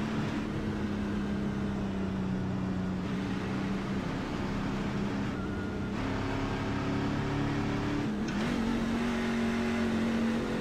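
A NASCAR truck engine in the iRacing sim at Daytona International Speedway, held at maximum revs in third gear, gives a steady, loud, buzzing drone, with its pitch dipping and recovering near the end.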